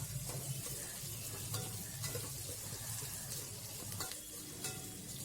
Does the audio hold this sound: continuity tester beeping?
no